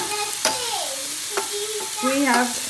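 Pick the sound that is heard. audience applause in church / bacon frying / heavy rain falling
bacon frying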